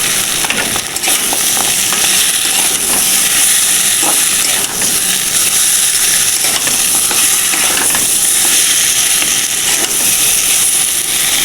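Lentil dumplings (bori) frying in a cooked-down spice masala for a rohu fish curry, giving a steady, loud, close sizzle and hiss with a few stirring clicks throughout.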